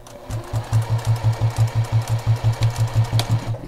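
A sewing machine stitches binding onto a quilt, its needle hammering in a fast, steady run of about seventeen even pulses over a few seconds, close and clear with no talking.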